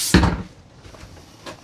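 A bathroom door in a 2024 Pilote P746 FGJ motorhome swings shut with a single quick wooden knock near the start, followed by faint light handling sounds.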